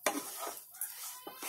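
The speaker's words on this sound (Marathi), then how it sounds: "आणि रवा भाजताना आहे ना लक्ष द्यायचा आणि चांगला हलवतच राहायचा." Semolina being dry-roasted and stirred in a kadai over medium heat, scraping strokes of a spoon against the pan with light clinks and a soft sizzle, close and irregular.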